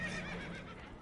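Spooked horses whinny and neigh loudly in a tense moment aboard a damaged boat in the Red Dead Redemption 2 video game, a brief, agitated burst of calls.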